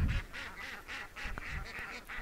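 Laying ducks being moved into a pen, quacking repeatedly in rhythmic bursts from a small flock at close range, with faint background noise.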